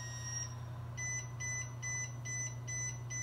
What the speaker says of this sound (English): it's beeping off the number of months left